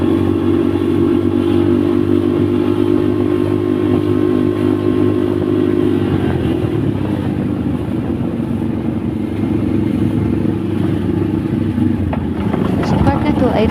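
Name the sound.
motorcycle riding on a road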